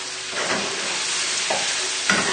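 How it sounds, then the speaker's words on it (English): Pasta strands are tossed in a hot pan with chilli pesto and crispy sausage, making a steady sizzle with a few soft scrapes and stirring bursts close by. "toss it together, just trying to get the strands of pasta nicely coated with the oil from the pesto"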